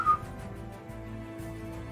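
A short, thin whistle sounds once at the start, followed by a faint background hum.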